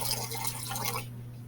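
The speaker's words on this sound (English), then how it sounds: "I have added 400 milliliters of water" Water poured into a black plastic box container, a steady liquid splash and trickle running for about a second before stopping, heard alone and fairly close.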